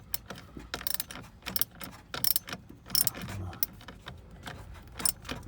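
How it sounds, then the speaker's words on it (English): A 10mm nut on the battery post clamp of an Alfa Romeo Giulia/Stelvio is tightened clockwise with a ratchet, giving repeated close clicks and metallic taps in irregular bursts with no talk. "we want to make sure we tighten up this 10mm nut that secures the post clamp"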